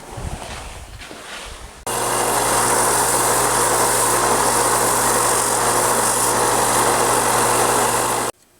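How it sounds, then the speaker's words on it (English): A belt sander shapes a wooden crankbait lure body. A loud, steady motorized roar with a grinding hiss starts abruptly after a quieter moment, runs evenly, then cuts off near the end. "now I'm going to take this out to the belt sander, send it down to the lines"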